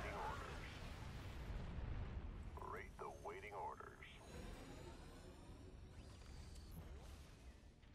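A deep, rumbling nuke explosion in StarCraft 2 booms and rolls on, with crackling bursts over it and voices talking faintly underneath.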